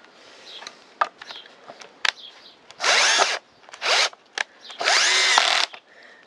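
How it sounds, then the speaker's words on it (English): Bosch PSB 1800 Li-2 cordless drill driving a small screw without countersinking: three loud sustained whirring bursts, the last the longest, separated by short clicks and handling knocks, close to the microphone with no talking. "you can pretty much put a small screw in without countersinking"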